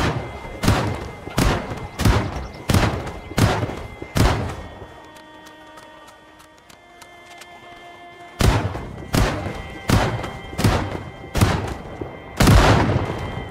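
A shotgun fires repeatedly at a zombie horde in the video game Project Zomboid: loud, punchy blasts come about every half second, pause for several seconds under a faint tonal game backdrop, then resume in another steady volley.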